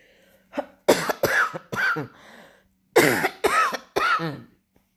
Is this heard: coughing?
yes